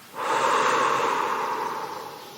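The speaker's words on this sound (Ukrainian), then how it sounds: "Давай зробимо глибокий вдих через ніс, щоб живіт і груди стали кругленькими, як повітряна кулька і видихнемо через рот" A single long, close breath, drawn in through the nose with an airy rush and slowly tapering off as it is let out through the mouth, with no voice.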